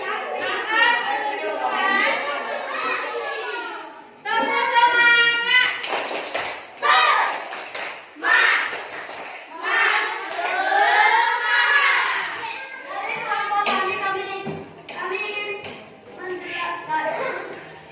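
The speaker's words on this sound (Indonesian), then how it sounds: "menunjukkan tepuk semangat" A group of fifth-grade pupils in an Indonesian classroom performs a tepuk semangat spirit clap, chanting together in a rhythmic pattern punctuated by sharp unison claps, with children's voices close and lively throughout.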